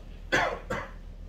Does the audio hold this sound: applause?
no